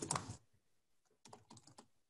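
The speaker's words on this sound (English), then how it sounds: "I'm just typing away here" Fingers tap on a computer keyboard in quick, uneven bursts of soft clicks, a busier flurry at the start and another cluster a moment later, faint and close, with no talk.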